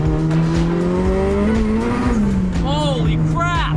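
A big-turbo Honda Civic is driven hard, its engine roaring loudly under rising and falling revs, with tires squealing in sharp bursts near the end.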